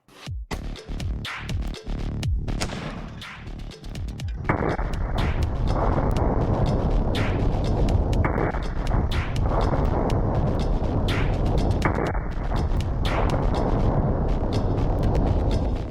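An AR-15 fires a single 5.56 armor-piercing round into a line of paint cans, giving a series of loud, sharp cracks and blasts, then a long, sustained roaring wash of noise that stays loud to the end.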